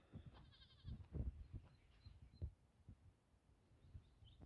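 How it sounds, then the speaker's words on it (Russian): Goat kids on a village farm give several brief, fairly faint bleats scattered among low thumps and rustling, with no talking. "Козлята."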